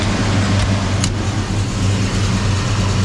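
A 1965 Chevrolet Chevelle Malibu with a 396 big block V8 and Holley double pumper carburetor runs steadily up close, a loud deep continuous engine rumble.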